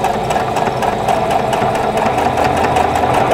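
A sewing machine set to a 2.5 stitch length, fitted with a quarter-inch piecing foot, stitches a quarter-inch seam on a pinwheel quilt block, humming loud and steady with a fast, even mechanical pulse.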